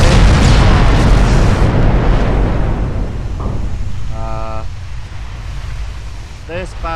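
Naval battle in the warship game Ultimate Admiral: Dreadnoughts, with heavy booming gunfire and explosions rolling continuously under a low rumble, fading after a few seconds into quieter distant bursts and a short electronic beep.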